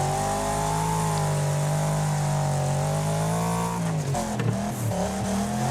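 Racing car engines in the demolition-derby racing game Wreckfest drone loudly and steadily with sustained revving, a rough burst of impact and tire noise near the end before the engines settle again; no talk.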